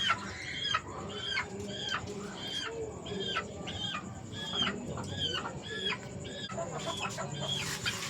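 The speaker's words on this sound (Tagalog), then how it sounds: "Kaso maliit na manok lang po ito." A small Red Spartan gamefowl rooster clucks and squawks close by in a steady run of short, rising calls with only brief pauses, and no one speaks.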